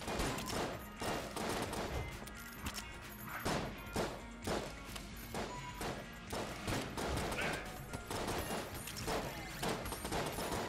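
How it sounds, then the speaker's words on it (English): Gunfire in the Enter the Gungeon video game: dense, continuous bursts of shots and impacts, loud and layered with crashes and thuds throughout. "please stop firing"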